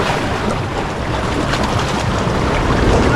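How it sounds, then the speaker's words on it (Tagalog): Strong ocean waves roll onto Boracay beach, a steady loud wash of surf mixed with gusty wind noise that stays continuous throughout, with no talking. "Ang lakas ng alon."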